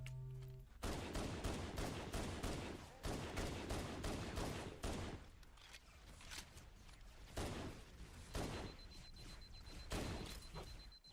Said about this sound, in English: Now I've pulled them back into range with the machine gun